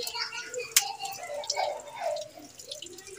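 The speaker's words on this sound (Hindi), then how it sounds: "ये पानी जो है ना पानी इसके ऊपर डाल के ना बर्फ़ को बाहर निकालती हूँ" Water is poured over ice to loosen it, giving soft splashing and dripping with a few sharp clinks, moderately close and fairly quiet.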